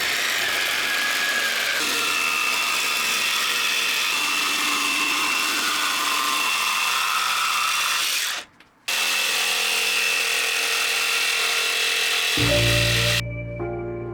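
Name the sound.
jigsaw cutting out a wooden chair seat back shape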